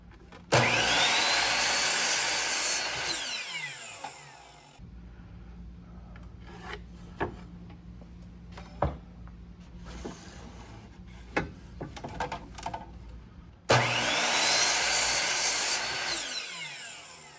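Power saw making 15-degree bevel cuts through a cedar fence picket, two loud whining cutting passes at the start and end, separated by quieter clicks and handling knocks, no speech.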